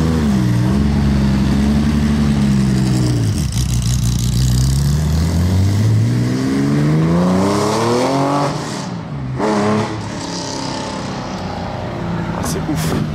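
A Lamborghini Aventador SV with Gintani exhaust revs loudly nearby, its engine pitch climbing and falling through several sweeping pulls, with people talking over it.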